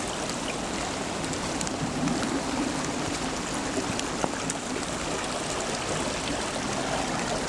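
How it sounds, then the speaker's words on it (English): A river runs through woodland toward Winter Hill, its steady rushing water filling the scene with a continuous, fairly loud broadband wash that holds evenly throughout with no voices. "So this river runs all the way up to Winter Hill."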